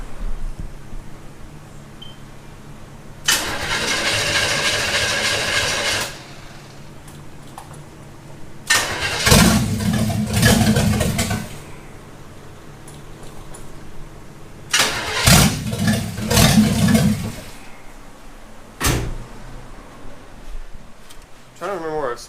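A 1951 Chevy truck engine is cranked over repeatedly, several separate bursts of loud, close starter grinding and sputtering separated by pauses, with voices talking in between.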